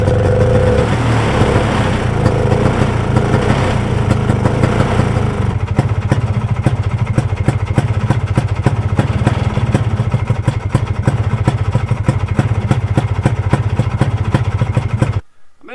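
A revived 302 single-cylinder engine, running a little rich on oil, chugs loudly up close with a rapid, clattering beat that shifts after a few seconds, then cuts off abruptly near the end.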